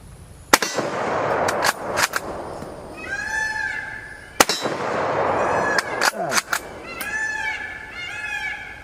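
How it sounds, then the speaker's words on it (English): Rifle shots from a 7.62x54r fired at a steel silhouette target outdoors, several sharp cracks each followed by a metallic clang, spaced a second or two apart, with birds chirping in the background between shots. "I'm just going to send some lead down at that steel silhouette down there"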